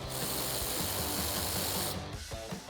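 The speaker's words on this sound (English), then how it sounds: "we can take our factory bolt for the inner fender, and we can tighten that up with a 10mm socket" A 10mm socket on a ratchet tightens the factory inner fender bolt on a 2016-2021 Toyota Tacoma, giving a steady, close mechanical clicking that runs continuously and then thins out near the end.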